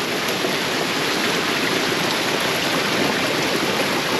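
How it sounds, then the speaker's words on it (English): Heavy rain pours steadily as a dense, even hiss, close and continuous with no talking, near a railway station in Dalat, Vietnam. "We have to take shelter here because it's raining heavily."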